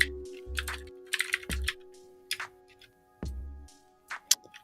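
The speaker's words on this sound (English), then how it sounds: "I cannot type for the life of me" Quick, uneven bursts of typing on a computer keyboard during a coding session, clicks arriving in scattered clusters with pauses between, close and fairly quiet with no talking.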